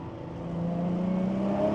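Turbocharged 1JZ engine in a Toyota JZX100 pulling hard, with induction noise and no blow-off valve fitted: a continuous whirring engine note that climbs gradually in pitch and swells slightly louder, with no voices.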